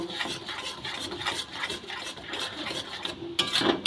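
Raw banana peel paste mixed with water and stirred in a pot, repeated scraping and rubbing strokes of a utensil against the vessel in an uneven rhythm, close and fairly clear, ending with a few louder clinks.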